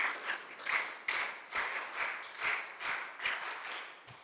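A group claps in tight unison, a steady run of crisp, evenly spaced hand claps at close range in a gathering at a girls' character-building camp, with no talk over it.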